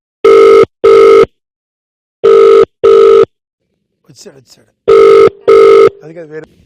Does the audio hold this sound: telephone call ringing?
yes